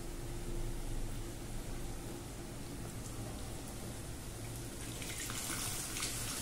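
Tamarind water poured into a pot for a bandakaya tomato gravy curry, a steady splashing pour that runs close and continuous, growing brighter toward the end, with no voices.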